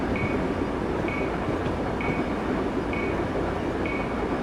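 A Virginia Railway Express commuter train travelling on CSX track, heard from on board as a steady loud rumble and rail roar with a faint high squeal repeating about once a second, no talking.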